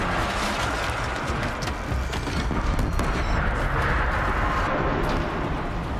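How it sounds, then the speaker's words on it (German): Dense gunfire and explosions from combat in the video game Horizon Zero Dawn, a loud continuous barrage of shots and booms with no pauses. "noch ein oder zwei Schüsse brauche ich noch"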